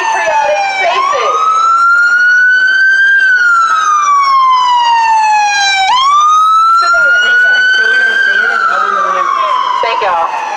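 A loud emergency siren wails continuously, sweeping up and down in long cycles, close and dominant throughout.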